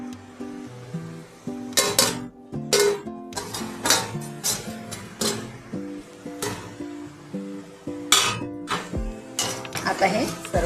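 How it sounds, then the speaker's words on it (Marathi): Mango pickle spices, including ground masala and split mustard seeds, are mixed in a bowl. A spoon gives repeated scraping stirs and metallic clinks at close range while someone talks over them. "आता हे सर्व साहित्य ना मिक्स करून घ्यायचं आहे"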